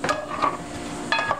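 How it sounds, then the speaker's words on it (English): Rice pilaf with onions is stirred in a pot, heard as a few short close scraping strokes of a utensil against the pot with a light sizzle beneath and no voices. "And now we're gonna stir this."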